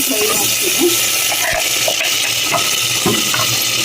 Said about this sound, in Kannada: ಮಸಾಲೆನ ಒಂದು ಎರಡು ಎಣ್ಣೆನಲ್ಲಿ ಫ್ರೈ ಮಾಡ್ತೀನಿ